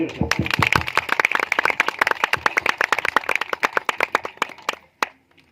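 Applause and hand clapping from a congregation at a church Christmas celebration, a dense burst of many hands that thins into scattered claps and stops near the end, with some speech underneath.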